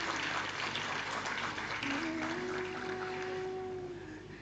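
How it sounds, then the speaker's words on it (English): An audience at an alumni meet applauds in a dense, steady wash of clapping that fades slightly toward the end, with faint tonal sounds underneath. "A huge round of applause for everyone"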